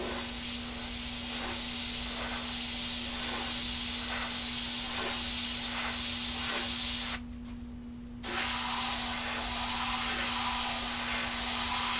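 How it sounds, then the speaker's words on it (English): An airbrush sprays paint onto Kawasaki and Bimota motorcycle bodywork, giving a steady, loud hiss with a faint pulsing beneath it. The spray cuts off for about a second and then resumes. "it is nice to use an airbrush"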